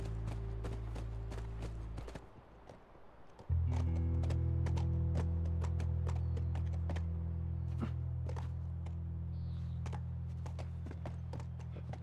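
Horse hooves clip-clop in a steady walking rhythm in the video game The Last of Us, with a brief lull early on before a continuous low engine-like drone and the regular hoof beats carry on.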